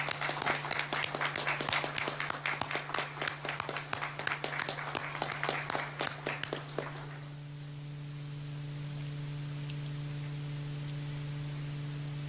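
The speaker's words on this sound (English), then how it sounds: "Could we please offer a round of applause for Brian Kay's service?" Applause honouring a veteran's service at a Billy Bishop remembrance event, scattered clapping from a modest crowd that fades out after about seven seconds, leaving a low electrical hum and faint hiss.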